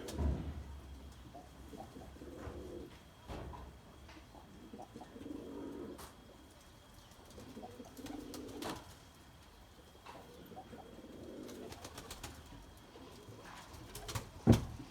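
Pigeons cooing in a breeding loft, soft low repeated coos in several separate phrases among light rustles and a few clicks, fairly quiet, with no talking.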